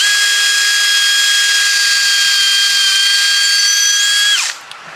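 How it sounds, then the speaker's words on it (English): A power drill boring a hole into a carved camphor wood fishing lure body whines at a steady high pitch for several seconds, then spins down and stops. "Drill out our front hole there."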